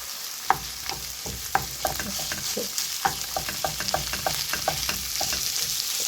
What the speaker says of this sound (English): saute or cook this meat about halfway through because then the shepherd's pie is going into the oven